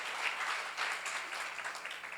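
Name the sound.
audience applause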